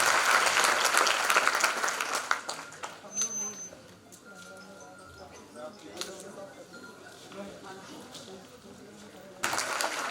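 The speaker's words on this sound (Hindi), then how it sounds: "तालियों की गड़गड़ाहट होनी चाहिए।" Audience applause greets an award winner at an awards event, loud and dense at first, then thinning into scattered claps and background chatter before a fresh burst of clapping at the end.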